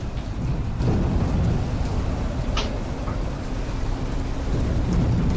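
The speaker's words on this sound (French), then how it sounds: "vous entendez au loin un éclair qui déchire le silence" Low thunder rumbles in the distance beneath steady rain, a continuous deep roll with no voices.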